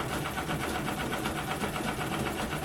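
A White Rotary sewing machine runs steadily during free-motion quilting, a fast, even, close mechanical chatter of needle strokes with no pauses.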